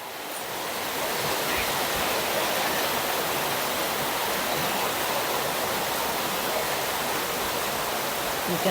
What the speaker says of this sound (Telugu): వర్షం చూడండి ఎలా పడుతోందో